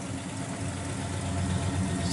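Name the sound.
1968 Pontiac GTO engine idling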